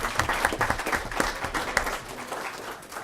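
A city council meeting audience in Murray City gives a round of applause, a crowd of hands clapping briskly and close, thinning toward the end.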